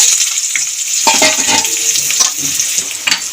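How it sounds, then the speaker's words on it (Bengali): Cut potatoes sizzle loudly in hot oil with turmeric, a bright continuous crackle that flares up as more pieces drop in, close and alone without speech. "তেল গরম হয়ে গেছে তেলের মধ্যে দিয়ে দেবো অল্প করে নুন সরি হলুদ আগে থেকে যে আলুগুলো কেটে রেখেছি আলুগুলো দিয়ে দেবো তেলের মধ্যে"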